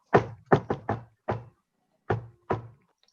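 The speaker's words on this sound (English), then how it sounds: "He knocked on Tiger's door." Knocking on a door: a quick run of four raps, then a single knock, a pause, and two more. The knocks are close, crisp and stand alone with no voices.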